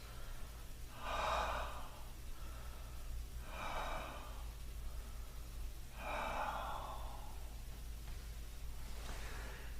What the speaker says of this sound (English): And breathe. 3 deep breaths.